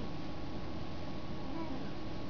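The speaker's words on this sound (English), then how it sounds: "did you hear him say meow?" A house cat gives a faint, soft meow indoors against a steady background hiss, with no talking.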